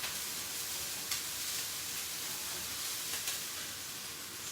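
Southwest fried rice sizzles in a hot pan with a constant bright hiss while being broken up and stirred, a couple of faint scraping clicks of the utensil rising briefly from the steady frying noise.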